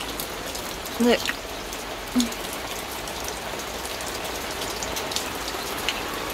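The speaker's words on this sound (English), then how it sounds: "I've never seen rain like this, and I'm from Scotland, so that's saying something." Heavy rain pours steadily onto a balcony in a continuous broadband hiss, with a brief voice speaking once over it.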